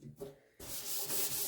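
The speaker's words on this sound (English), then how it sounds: "by going over it with the Scotch-Brite pad, it makes it a little rougher" Aluminum scoured with a Scotch-Brite pad, close, quiet abrasive rubbing in short strokes, building into a steady scratchy hiss.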